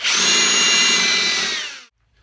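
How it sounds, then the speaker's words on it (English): A power drill whirs loudly at close range for under two seconds during cigar box guitar building, then spins down and stops. "That way you can put it into your power drill and you can go to town on these bad boys"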